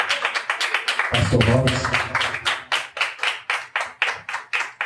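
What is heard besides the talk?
church congregation clapping in praise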